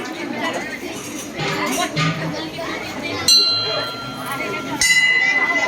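Metal temple bells at a Durga temple in Pithampur ring during aarti, with a couple of bright, sustained strikes over a steady background of crowd chatter and voices.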